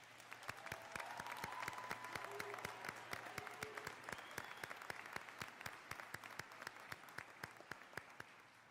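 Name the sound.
applause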